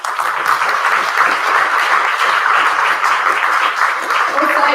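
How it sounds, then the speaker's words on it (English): Audience applause for the lecturers at a Teachmeet history event, a dense, steady wash of many hands clapping for about five seconds with no letup, loud and close. "So round of applause for them, please."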